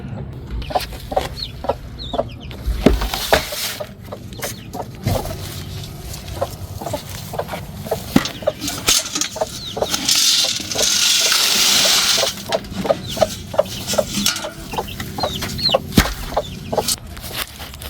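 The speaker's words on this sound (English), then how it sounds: "Hey, Mr. Rooster" Chickens cluck steadily throughout with a rooster crowing among them, close and busy, over a constant rushing background noise.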